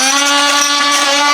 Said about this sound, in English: that's called a multi-tool